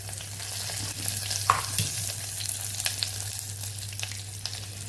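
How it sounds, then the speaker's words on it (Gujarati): Cumin seeds sizzle steadily in hot ghee, a continuous frying hiss with occasional crackles and pops close by. "ઘી ગરમ થઈ ગયું છે તો અડધી ચમચી જેટલું આપણે જીરું ઉમેરીશું"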